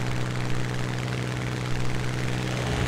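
A propeller aircraft engine drones steadily in the video game War Thunder, a loud, continuous low hum with a strong, even tone that holds unbroken throughout.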